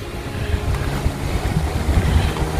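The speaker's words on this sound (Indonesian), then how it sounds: "Angin kenceng tapinya." Strong wind gusts outdoors in a garden in the Netherlands, buffeting loudly and unevenly with rushing, blustery noise and heavy low-end microphone rumble, no voices.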